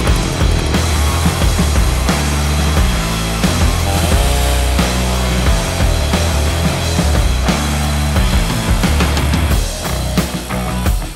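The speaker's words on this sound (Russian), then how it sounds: "Именно для этих целей мы купили вот такую бензопилу Vittles." A new Vittles petrol chainsaw with a 2-horsepower engine and anti-vibration damper runs loud and close, its engine droning steadily with repeated rises and dips in revs and no talking.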